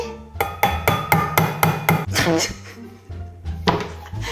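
An improvised hammer strikes repeated hard knocks in an even rhythm, followed by a clatter, a pause, and a couple more thumps.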